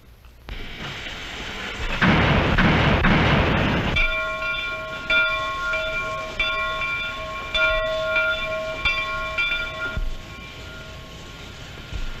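A 1930s locomotive starts moving with a loud burst of steam, then a steady rumble with a sustained whistle and rhythmic clanking of wagons as it gets under way.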